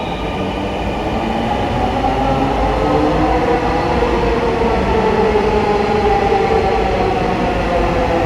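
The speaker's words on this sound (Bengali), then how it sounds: "মতিঝিলমুখী ট্রেনটি এইমাত্র গেল" A Dhaka metro rail train bound for Motijheel rumbles loudly and steadily, its roar and rolling wheel noise filling the station as it pulls away, with no talking.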